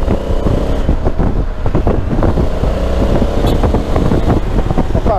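A 2021 Honda Africa Twin Adventure Sports motorcycle accelerates on the road, its engine note rising and pulsing under heavy wind buffeting on the microphone, loud and close throughout.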